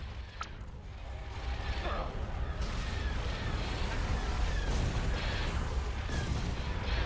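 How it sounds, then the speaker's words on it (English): Rapid sci-fi laser cannon blasts fire repeatedly in a Star Wars space strategy game battle, over a dense, rumbling soundscape, with sharp bursts punctuating continuous low noise and voices in the background. "Charge laser cannons."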